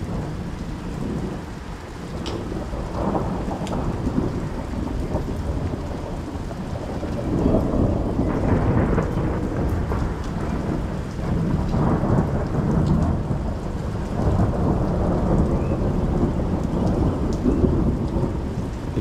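A thunderstorm rolls on with steady heavy rain hissing on surfaces while low thunder rumbles swell and fade several times, loud and enveloping, with no voices.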